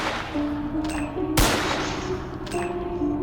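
Pistol gunfire in a video game, with one loud close shot in the middle and a few lighter shots around it, set over a steady droning background with no talking.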